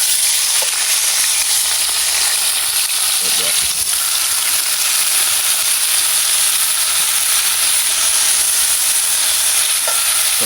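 Seasoning sizzles and fries steadily in hot oil in a pot on an outdoor fire, a continuous loud crackling hiss with a few faint stirring knocks.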